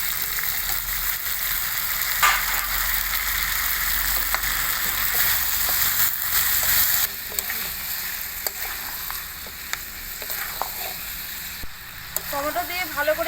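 Mutton pieces frying in a pan with chopped tomatoes, stirred steadily, giving a continuous close sizzle with scraping spoon strokes for mutton kosha.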